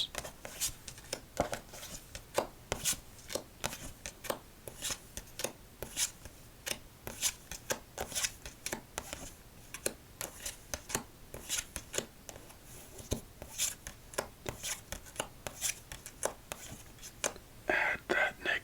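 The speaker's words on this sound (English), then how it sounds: "Let's double up on the casino shuffles." Playing cards are shuffled repeatedly, producing soft, rapid riffling bursts and taps at close range, quiet and steady throughout.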